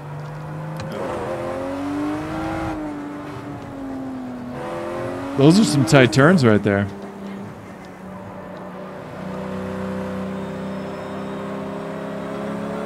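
A car engine in a racing video game hums and shifts pitch through tight turns, rising into a sharp burst of revving midway before settling to a steady drone, with someone talking over it.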